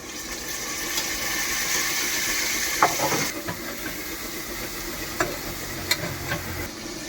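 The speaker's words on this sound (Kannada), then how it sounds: "ಈರುಳ್ಳಿ ಮೆಣಸಿನ್ಕಾಯಿ ಬೆಳ್ಳುಳ್ಳಿ ಎಲ್ಲ ಹಾಕ್ಬಿಟ್ಟು ರೋಸ್ಟ್ ಮಾಡ್ತಾ ಇದ್ದಾನೆ ನಮ್ಮ ರಾಜ ಟೊಮೊಟೊ ಹಾಕ್ತಾ ಇದ್ದೀವಿ" Onion, green chili and garlic roasting in a pan as tomato goes in, cooked in a truck driver's roadside setting: continuous frying hiss with a few sharp clinks and stirring taps, no talk.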